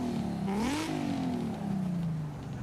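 A Nissan engine with a VQ-like character in a video game revs up quickly, then falls in pitch as it settles. The rev is loud and close, with no talk.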